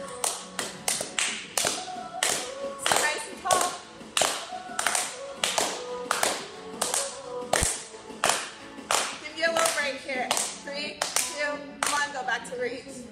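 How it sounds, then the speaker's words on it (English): A group claps hands during a chair yoga class, sharp rhythmic claps in quick bursts with short pauses between sets, fairly close and distinct, with an instructor's voice occasionally over them. "Now the clapping might have felt goofy"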